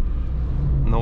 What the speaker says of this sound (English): Some diesel crunch